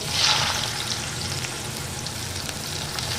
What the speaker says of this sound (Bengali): এবার আমি কেটে জল ঝরিয়ে রাখা চাল কুমড়োটা ওই তেলের মধ্যে দিয়ে দিচ্ছি